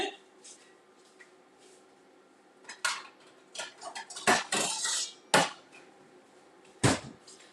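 Metal pans and cookware clatter on a gas stovetop in a home kitchen, with scattered sharp clanks and scrapes in short bursts and a few louder knocks close by over a quiet background.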